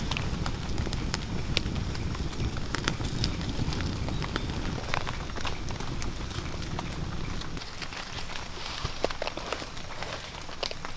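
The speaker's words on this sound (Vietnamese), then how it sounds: "Mưa quá các bác, mưa." Heavy rain pours steadily in a forest, a loud continuous hiss with dense pattering and sharp drips throughout, no voices over it.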